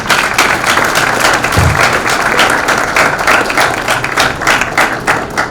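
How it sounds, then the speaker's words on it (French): Applause from an audience at a mock trial event in a hotel hall, a steady dense clapping sustained at a loud, even level from start to finish. "Sous vos applaudissements."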